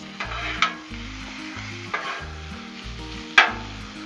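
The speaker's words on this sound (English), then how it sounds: "Oh yeah, bacon on the griddle." Bacon frying on a Blackstone griddle, a constant close sizzle under a rhythmic repeating clatter, with three sharp spatula taps or scrapes spaced a little over a second apart.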